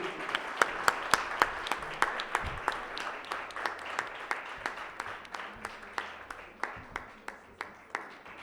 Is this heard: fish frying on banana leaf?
no